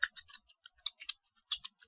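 Quick, crisp keystrokes on a computer keyboard, a fast irregular burst of clicks with short pauses, close and clear with no voices.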